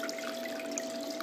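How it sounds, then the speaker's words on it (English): Water runs steadily through a Blue Bowl gold concentrator during a gold cleanup, giving a close, constant trickling rush with a faint steady hum beneath it. "The water will start to flow down through that middle cone there."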